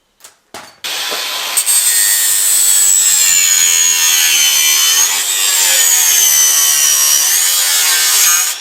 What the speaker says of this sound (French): C'est un petit coup de meuleuse et puis hop.